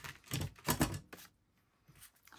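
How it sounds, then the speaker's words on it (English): Scissors snip through paper in quick crisp bursts, a few close cuts in succession and then a quieter pause with faint rustling. "sorry about the noisy scissors"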